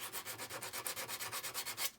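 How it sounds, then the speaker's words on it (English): 80 grit emery cloth rubbed over 3D-printed PETG plastic, a steady back-and-forth scratching in about sixteen even strokes, close and alone with no voices. "I'm using, instead of regular sandpaper, this is emery cloth"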